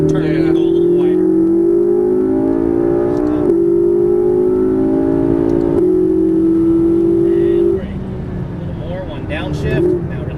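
McLaren MP4-12C on a race track, its engine note holding a steady tone that dips and rises through gear changes, then drops abruptly as the car rolls off the throttle; an instructor's voice runs over it.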